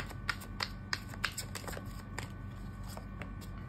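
Tarot cards being shuffled and laid down during a reading, a run of soft, close riffling flicks and taps with sharper snaps at irregular intervals, over a quiet low room hum.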